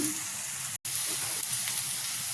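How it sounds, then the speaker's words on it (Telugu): Cut bottle gourd pieces sizzle in a pan, a steady close frying hiss with soft stirring, broken by one brief dropout of silence and no voices. "కట్ చేసి పెట్టుకున్న సొరకాయ ముక్కలు వేసుకున్నా కలుపుకొని ఒక రెండు నిమిషాలు మగ్గిద్దాం"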